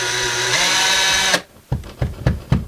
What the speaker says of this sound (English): that's where we're going to put a small little pilot hole to confirm it